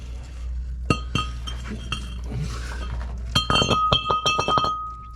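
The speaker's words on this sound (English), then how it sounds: "And very simply, take the disc off." Metal clinks and clanks as a front brake disc is taken off a 2001 Toyota Seca, with a few isolated knocks followed by a quick cluster of ringing metallic hits, close by and without talking.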